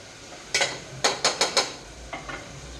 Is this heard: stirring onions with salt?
yes